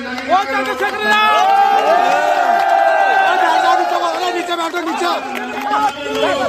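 A large crowd at a political rally in Chandpur roars and cheers continuously, a dense wall of many voices shouting together, loud and close throughout.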